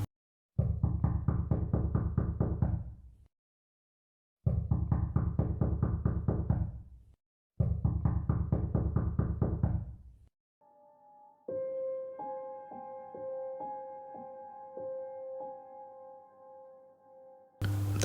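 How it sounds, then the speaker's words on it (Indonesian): Knocking on the door of a house, three loud bursts of rapid raps separated by short pauses, followed by a sustained tonal ringing sound. "Jadi pintu rumahnya diketok-ketok."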